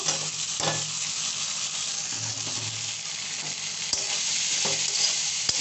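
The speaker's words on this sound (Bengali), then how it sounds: "আমি নাড়াচাড়া করব আর একটু ভালোভাবে ভাজবো" Noodles being stirred and fried in a pan at home give off a steady, close sizzle with scraping stir strokes throughout, a few sharper utensil knocks near the end, and no talking.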